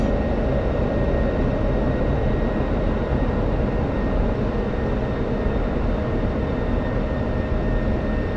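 An F-16 jet engine at takeoff in a flight game, a loud, steady, broadband roar that holds constant throughout with no talking.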